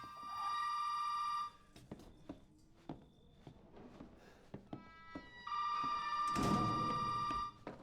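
A telephone rings in the Resident Evil 7 horror game, with two long electronic ring bursts separated by a few seconds of quiet creaks and footsteps.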